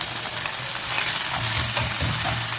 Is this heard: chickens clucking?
no